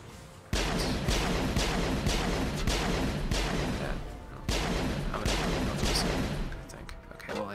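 Heavy sustained gunfire in the Mass Effect video game, dense rapid bursts running almost continuously and loud up close, easing briefly midway before resuming, with faint voices beneath.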